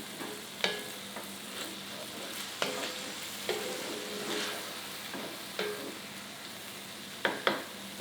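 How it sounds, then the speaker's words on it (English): Ground beef with garlic cooks in a pan, with a steady sizzle and a few sharp clanks and scrapes from a utensil stirring the meat at irregular moments, close by and with no voices. "you add the two cloves of garlic, which I have prepared, and then you saute and blend it in"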